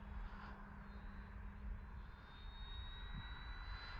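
An RC F8F Bearcat model plane engine at full speed, a steady, loud, continuous whine and roar with a faint rising pitch, heard outdoors without talk.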